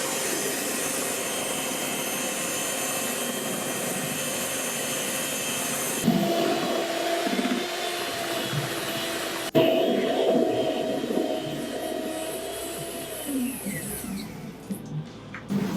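An electric hand mixer beats buttermilk pudding cake batter, a steady close whirring drone that changes pitch as the speed is stepped down and then raised, with a faint voice at times.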